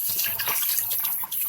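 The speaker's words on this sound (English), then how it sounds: "water down the drain" Water running from a tap down a bathroom sink drain after shaving, a brief continuous splashing gush, close and steady throughout.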